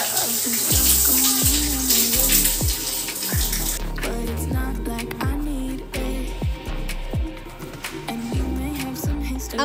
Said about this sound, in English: After scrubbing my body, I'll just go in and rinse my body thoroughly